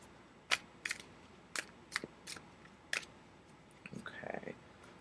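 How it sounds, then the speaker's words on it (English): Tarot cards being shuffled during a reading give quiet, sharp riffling snaps and clicks in several separate bursts, close by, followed by softer rustling, with no talking. "Give it just a couple more shuffles."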